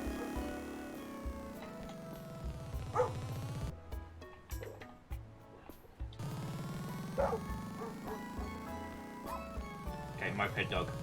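Barking from a cartoon dog riding a moped in the video game Pupperazzi, short yips and bow-wows scattered across the clip, heard over steady game music with voices talking.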